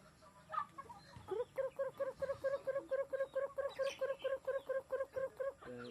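Egg-laying native hens cluck in a fast, regular series of short repeated calls, close by, with quieter background clucks and chatter at the start.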